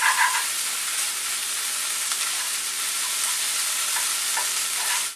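Warm rice being stirred in a sizzling pan for stuffed green bell peppers, a steady frying hiss with faint scraping strokes from the spoon running throughout, close and even.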